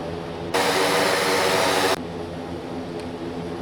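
A Kodiak turboprop engine in the X-Plane 12 flight simulator gives a sudden, loud, broad whooshing roar that lasts about a second and a half, then cuts back to a lower, steady engine hum.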